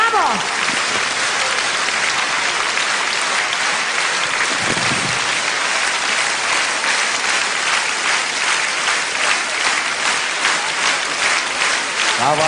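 A long, loud ovation in a concert hall after a piano performance in Jurmala, 2013, settling into rhythmic unison clapping as it continues.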